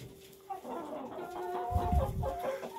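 Chickens and hens cluck close by in a coop where a keeper is injecting sick birds, with busy overlapping clucks and a drawn-out call building toward the end.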